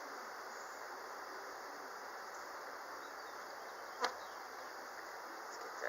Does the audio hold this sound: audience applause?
no